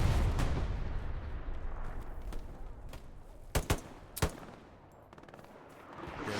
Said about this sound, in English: Where artillery and other things are blowing up the enemy as well here.